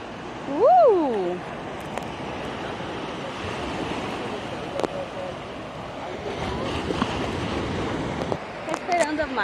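Ocean surf washes continuously onto a beach at Praia do Sonho, a steady wind-blown roar with gusts on the microphone, and a brief voice rises early on.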